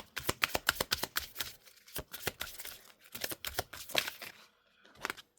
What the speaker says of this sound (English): Nothing wants to shuffle tonight.